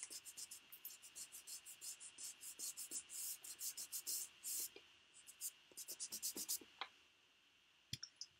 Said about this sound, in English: now I'm going to rub out the pencil lines